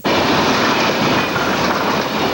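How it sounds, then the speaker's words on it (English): A train rolls steadily through the town of Oconomowoc, a loud, continuous rumble of wheels and rail noise with a faint clickety-clack that holds evenly from start to finish, close by and with no voices. "And the trains keep on coming through Oconomowoc as though nothing happened."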